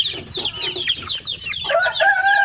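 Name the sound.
Basilan and Zamboanga native chicken chicks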